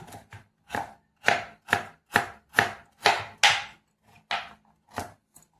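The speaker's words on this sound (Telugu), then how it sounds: "ఇలా ముక్కలు ముక్కలుగా కోసుకొని బార్కి ఇట్లా చిన్నగా కట్ చేసుకుందాం" A knife chops carrots on a board in a quick, steady series of about a dozen sharp, close knocks.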